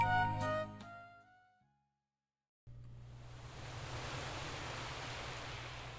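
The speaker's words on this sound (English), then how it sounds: "The sound of waves crashing against the shore" Waves crash steadily against a shore in a video game scene, a broad continuous surf wash that starts suddenly after a brief silence and holds at an even level alone.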